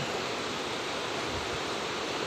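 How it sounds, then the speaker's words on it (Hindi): Fast-flowing mountain river near Gurudwara Toka Sahib, a steady loud broadband rush of churning water with no pauses, close and dominant, no voices. "पहाड़ की वजह से पानी बहुत तेज़ी से आता है"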